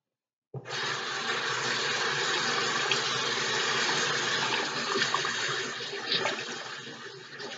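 Tap water gushes steadily from a bathroom faucet while face wash is rinsed off, a close, continuous splashing stream that starts abruptly and runs throughout with no talking.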